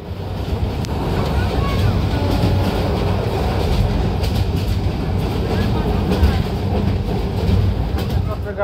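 The Bijoy Express passenger train bound for Cox's Bazar rumbles along, a loud, steady roar of wheels and carriage noise with rhythmic clacks, and people's voices can be heard over the din.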